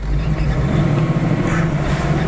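A 1968 Chevrolet Camaro RS/SS clone with a 427 V8 pulls hard under way, a loud, dense engine roar and road rumble heard from inside the car, steady with no talk.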